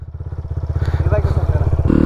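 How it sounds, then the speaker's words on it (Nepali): An enduro motocross bike at a Pokhara race thuds with rapid, even firing pulses that grow louder and quicken toward the end, close by, with faint voices underneath. "बल्ल बल्ल बाइक स्टार्ट भयो यार"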